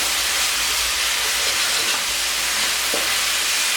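Root vegetable and smoked paprika stroganoff cooks in a pan with a loud, steady, unbroken sizzle and hiss that stays even from start to finish, with no voices.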